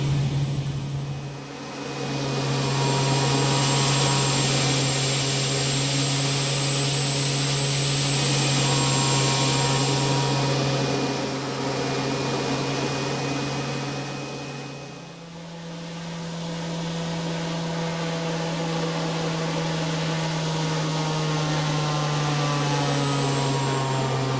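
Milviz PC-6 Turbo Porter turboprop cruising in the Prepar3D flight simulator: a steady, loud engine drone with a sustained low hum and high whine that dips briefly, then shifts slightly in pitch, with no talking.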